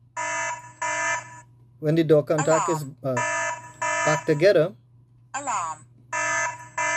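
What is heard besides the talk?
house alarm sounding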